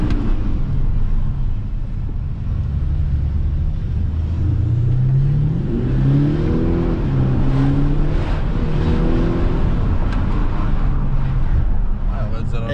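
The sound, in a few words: Audi A7 3.0 TDI biturbo Stage 1 accelerating hard, turbo kicking in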